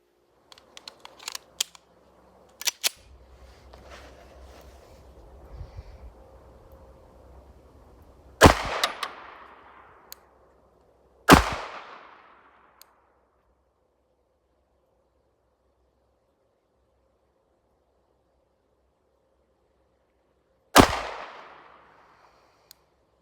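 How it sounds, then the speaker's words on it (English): A Tisas Stingray pistol fires Nosler 124 grain jacketed hollow point match rounds, three sharp isolated reports spaced several seconds apart, each with a short ringing decay, after some quieter handling clicks and rustle. "Next was the same test, this time around with the Nosler 124 grain jacketed hollow points"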